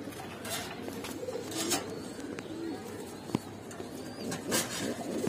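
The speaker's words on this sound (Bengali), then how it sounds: "পুরান জাতের কবুতর এটা" Old-breed Giribaz pigeons coo in low, rolling bursts throughout, with a faint steady background and one brief sharp tap near the middle.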